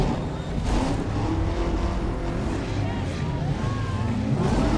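An SUV drifts in the racing game Need for Speed: Underground 2, its engine roaring loud and steady throughout, with pitch that rises and falls and tire squeal mixed in.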